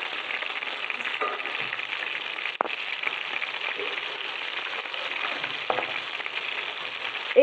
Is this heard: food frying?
yes